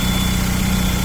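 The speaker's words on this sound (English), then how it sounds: "Del Sol's running." Honda Del Sol with a swapped B20 engine running at a steady idle, a close, loud low rumble with even rhythmic pulsing throughout this short stretch, no voices.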